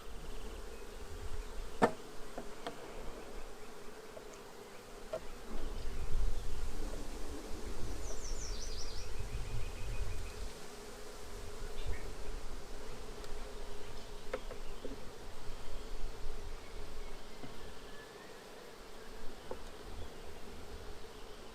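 Honeybees buzz steadily around backyard beehives outdoors, a continuous low drone from many insects close by. Occasional passing bees swell the hum at moments, and no voices are heard.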